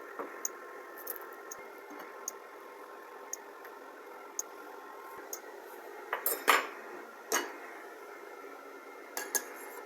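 A spoon stirring salted vegetable soup in a pot, quiet scraping and several sharp metallic clinks against the pot at irregular intervals over a faint background hiss.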